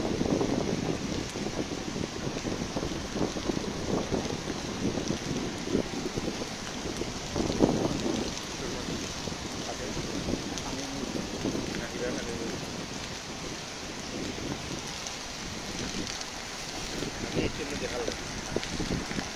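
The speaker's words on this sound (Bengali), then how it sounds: "প্রচণ্ড বৃষ্টি হচ্ছে," Heavy rain falls beside the Surma river in Sylhet, making a continuous dense hiss with gusts of wind buffeting the microphone.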